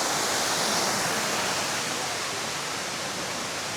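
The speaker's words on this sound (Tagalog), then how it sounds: "Ito yung falls niya." A waterfall inside a resort roars as a dense, steady rush of falling water, loud and close, filling the whole clip without a break.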